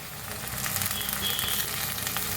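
Tomatoes hit hot oil with fried onion and green chili, giving a close, steady sizzle and crackle that swells slightly after they land, with no talking.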